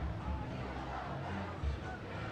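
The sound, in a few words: crowd screaming at Bernie Sanders rally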